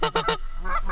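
Canada geese honk three times in quick succession, loud and close as a flock flies in toward hunters, followed by fainter overlapping honks trailing off.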